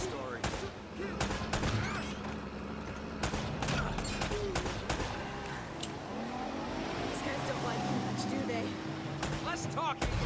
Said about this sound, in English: Less talking, more shooting!